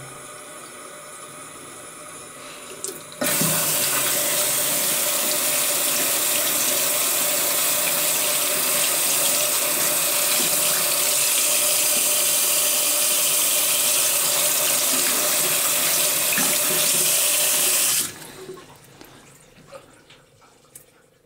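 A tap gushes into a sink as coins are rinsed, a steady close hiss of running water that starts abruptly, holds constant for about fifteen seconds, then cuts off into quieter handling noises.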